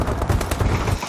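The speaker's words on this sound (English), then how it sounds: "Who's shooting me?" Rapid gunfire from a futuristic shooter game, Call of Duty Advanced Warfare, rattles in a dense, continuous burst of close shots with no talk over it.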